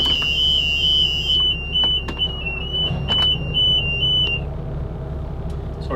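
A shrill electronic alarm beeps repeatedly in a broken rhythm over a low, steady engine rumble aboard a Colvic flybridge yacht as its engines start, stopping after a few seconds.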